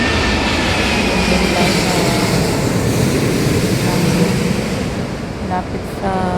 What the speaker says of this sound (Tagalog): Oh, this is A380.